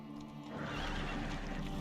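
Roach, a horse in The Witcher 3, lets out a loud, close whinny that swells and holds for over a second against a steady game background, with no talk.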